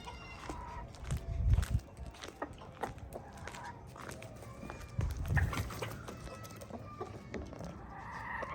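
A backyard flock of Black Lohmann hens clucks and murmurs nearby in scattered, overlapping calls, with a couple of louder low bursts of movement among them.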